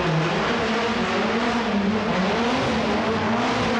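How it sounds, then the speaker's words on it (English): A four-wheel drive, 320 horsepower Nissan Sunny GTIR rally car roars loud and close at an arena rally showdown, its engine note shifting steadily as it runs without pause. "they've let him loose in the four-wheel drive, 320 horsepower Sunny GTIR"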